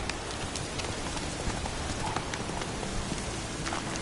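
Geralt's horse Roach galloping in The Witcher 3: rapid rhythmic hoofbeats under a steady wash of rain-like noise, moderately faint throughout.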